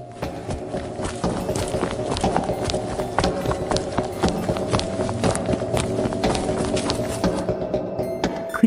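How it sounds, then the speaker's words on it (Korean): Rapid running footsteps of someone chasing behind on a mountain trail, a dense, fast, steady patter of close, loud impacts over a sustained low tone, with no talk. "그녀를 뒤쫓는 발걸음 소리가 등 뒤에서 들려왔고"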